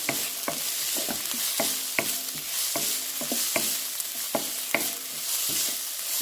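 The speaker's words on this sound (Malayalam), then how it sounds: "ഞാനിതിലേക്ക് അരിഞ്ഞു വെച്ചിരിക്കുന്ന സവാളയും ഇഞ്ചിയും പച്ചമുളകും എല്ലാം കൂടി ഇട്ടിട്ട് നന്നായിട്ട് ഞാനിനി ഇതിനെ ഒന്ന് വഴറ്റിയെടുക്കട്ടെ" Onion, ginger and green chili sautéing in coconut oil for a pearl spot fish curry, a steady loud sizzle with a spatula scraping and stirring the pan at a regular rhythm.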